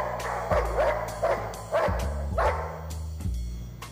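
A dog barks repeatedly in short bursts, close by, with a few yips mixed in between the louder woofs.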